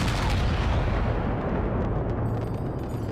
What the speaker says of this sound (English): At 4:10, cannon opened fire on the rebels.